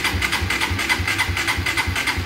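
A Raider 150 motorcycle engine idles steadily up close, a rhythmic low chugging pulse with no voices.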